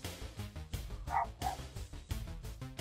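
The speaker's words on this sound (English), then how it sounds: "Dogs are really barking out there today." Dogs bark outside in a quick series of yaps and woofs at moderate distance, mixed with background sounds.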